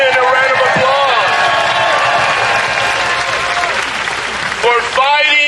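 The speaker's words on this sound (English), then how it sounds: "Let's give Myra and Ian a round of applause" Loud crowd applause and cheering at an outdoor No Kings protest rally in Santa Barbara, sustained clapping and whoops, with a voice over the PA system and whistles rising near the end.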